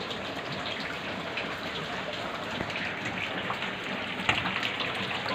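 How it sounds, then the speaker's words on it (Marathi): Heavy monsoon rainwater streams steadily across a tiled floor and into a house from an overflowing drain, giving an even, close rushing wash with no talk. "हे फरशीहून पाणी चालू आहे"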